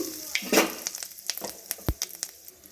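Whole cumin seeds and asafoetida hit hot white oil in a pan, a close, soft sizzle with scattered small pops and crackles.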